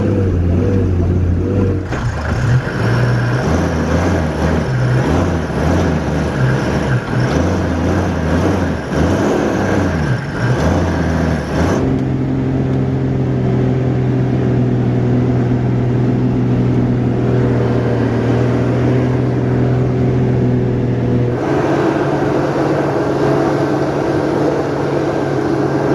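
4x4 off-road vehicle grinding along a rough road in Congo, a loud continuous engine roar with shifting gears and rattling bumps throughout, no voices.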